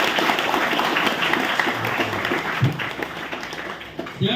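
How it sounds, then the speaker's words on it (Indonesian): An audience claps for an alumnus at an Islamic boarding school orientation talk, a dense, sustained wash of applause from a sizable crowd that gradually thins toward the end, with a few voices mixed in. "Alumni sini, tepuk tangan dulu."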